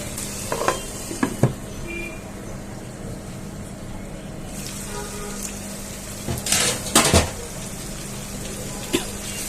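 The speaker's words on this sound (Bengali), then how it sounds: "আমি মশলাটা ভালোভাবে কষিয়ে নিচ্ছি" Spice masala for a prawn curry fries and gets stirred in a pan: a continuous low sizzle broken by sharp scraping strokes of a spoon, clustered early and again around the middle, with no voices.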